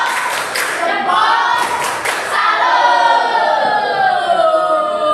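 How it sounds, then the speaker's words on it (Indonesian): A class group of students and teacher gives a salute clap, a few sharp rhythmic claps at the start followed by loud crowd noise and overlapping voices. "Boleh tepuk salut."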